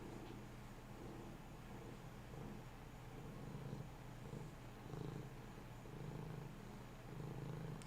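A Maine Coon cat purrs close up in a low, steady rumble that rises and falls with its breathing, quiet and continuous, ending in a brief bump.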